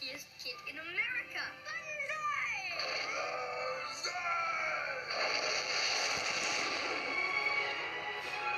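Several voices scream and wail in rising and falling cries within a film trailer, loud and dense throughout and mixed with other soundtrack noise.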